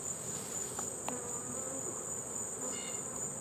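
Honeybees drone steadily around an open hive during honey harvesting, a continuous close buzz with a high sustained whine and a few brief clicks, no voices.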